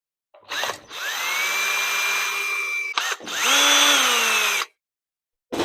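A power drill whines at high speed backing screws out of a ceiling fan, two sustained bursts with a pitch that rises at each start, separated by a short pause, loud and close.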